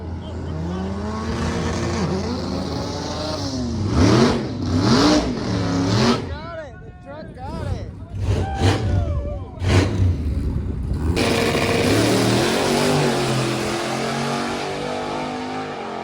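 A Dodge Dakota truck roars down the strip in a heads-up drag race, engine revving hard and shifting with rising and falling pitch, with other race cars and a commentator's voice mixed over the loud engine noise.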